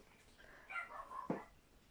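Tuxedo the dog lets out soft, high whines, a couple of faint close whimpers with a short yip near the end, alone and quiet.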